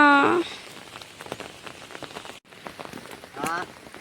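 Heavy rain pours steadily outdoors on an empty road, a dense hiss of drops on surfaces with brief louder patches, as a voice speaks over it near the start and end.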